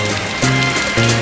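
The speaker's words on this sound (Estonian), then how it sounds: "Noh, niimoodi hästi tuleb vihma noh." Rain falls steadily in Barcelona, Spain, a loud continuous hiss and patter close by, with a low droning tone that rises and falls underneath.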